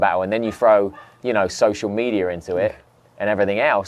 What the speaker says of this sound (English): It's a neighbour's dog, very angry at this podcast.